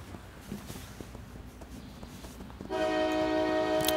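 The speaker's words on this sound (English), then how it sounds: "Oh good. The train's right on time." A train pulls in within World of Warcraft: Shadowlands, a few soft knocks and shuffles giving way to a loud, sustained horn blast that starts abruptly near the end and holds steady.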